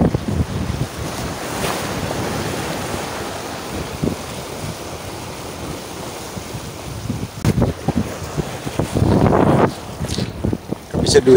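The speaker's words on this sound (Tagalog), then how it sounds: "Lakas ng alon, oh." Strong ocean waves crash and surge nearby amid gusty wind buffeting the microphone, with a louder rolling break near the end and brief voices underneath.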